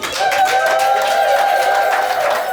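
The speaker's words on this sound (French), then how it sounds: "Est-ce qu'on peut applaudir pour lui?" Wedding-ceremony audience applauding in a steady, dense wash of clapping that holds loud and even throughout, with crowd murmur mixed in.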